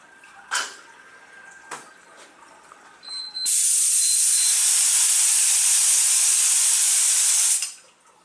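A spray gun with a 1.8 tip sprays activator at about 18 psi onto a hydrographic film, a steady loud hiss lasting several seconds after a few faint clicks, then cutting off.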